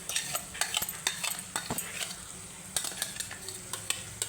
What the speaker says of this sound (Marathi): तेल सुटेपर्यंत मी आता परतून घेणार आहे